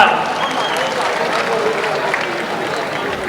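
A crowd applauds at an inauguration ceremony in Delhi: a dense, continuous roar of clapping, loud and even across the whole stretch.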